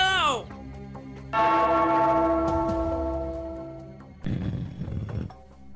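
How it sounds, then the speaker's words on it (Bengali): A bell rung in a cartoon rings out in long, ringing tones that decay slowly, preceded by a short sliding sound effect and followed by a burst of rougher noise. "ওই ঘন্টাটা বাজাও, বাজাও"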